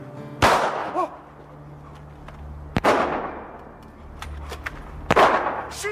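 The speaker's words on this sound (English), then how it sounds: "She's shooting at us." Three loud, sharp gunshots ring out a couple of seconds apart, each with a long echoing tail, fired at people running away outdoors, with faint voices between the shots.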